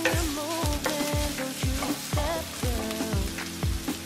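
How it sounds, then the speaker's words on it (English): Chopped onions fry in olive oil in a pan over high heat, with a steady close sizzle broken by regular scraping stirs roughly twice a second, and faint tonal sounds running underneath. "Our pan nice and hot, we're gonna drizzle in some olive oil in here."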